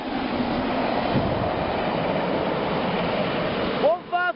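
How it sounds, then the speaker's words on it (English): Class 153 diesel unit 153383 passes a level crossing at Saxilby, heading to Doncaster, a steady broadband rumble filling the whole clip before a brief pair of horn-like tonal notes at the end. "153383 to Doncaster and there it goes"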